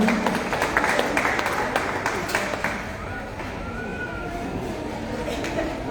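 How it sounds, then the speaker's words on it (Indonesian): An audience at a hospital World Stroke Day and anniversary event applauds a senior neurologist, dense clapping mixed with crowd murmur in a large room, strongest at first and then settling into a steady wash of babble. "Sambut tepuk tangan Bapak Ibu sekalian"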